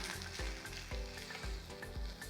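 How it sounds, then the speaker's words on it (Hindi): Samosa masala stirred together with fresh coriander leaves in a pan, a steady close sizzle with repeated scraping strokes roughly every half second, no talking. "और सभी को एक बार हम अच्छे से मिक्स कर लेते हैं।"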